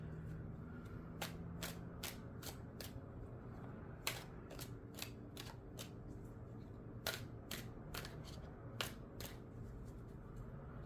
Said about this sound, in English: let's go ahead and pull a few more cards on this energy